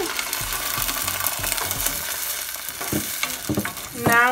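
Beans added to a hot pan for chiles rellenos, a steady close sizzle with stirring scrapes and knocks, swelling into a louder hiss at the end.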